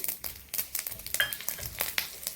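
Crackling and popping of mustard seeds and dried red chillies frying in hot oil, a rapid irregular spatter of sharp pops, close and fairly loud, with no talking.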